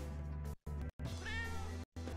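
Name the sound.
cat meowing in the video game Tokyo Dark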